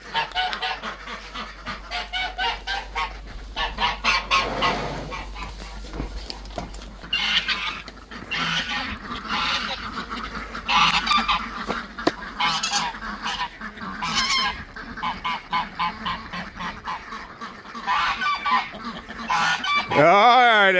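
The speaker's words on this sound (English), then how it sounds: "Hey, birds. Come on out." Farm birds in a coop, a crowded chorus of honking geese and clucking, crowing chickens, loud and close, with overlapping calls that swell and fade across the whole stretch.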